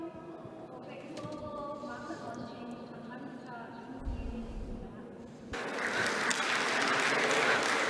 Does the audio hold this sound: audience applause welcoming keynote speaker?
yes